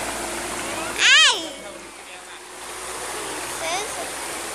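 Flowing water outdoors, a continuous rushing stream or small waterfall heard close by, with a child's high-pitched voice briefly calling out over the steady noise.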